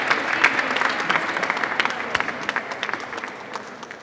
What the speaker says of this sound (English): Big round of applause, please, for Tony Maloney, who's Head of Training and Skills Development at the National Grid.